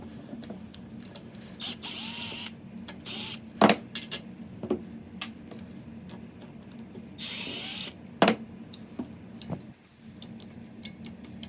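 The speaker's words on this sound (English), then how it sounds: "And then took the two screws out, which kind of act as the pins for the trigger mechanism." Screws come out of a Wong Bluewater speargun trigger mechanism, close small metallic clicks, ratcheting turns and scattered clacks with brief louder bursts of handling noise, no talk.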